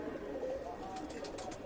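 Pakistani Teddy pigeons coo softly in a low, steady murmur, joined by a few faint clicks and rustles near the end.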